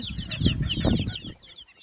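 Small bantam chickens huddled together in a corner cluck softly and chatter, with overlapping low clucks and a few higher peeps, close by.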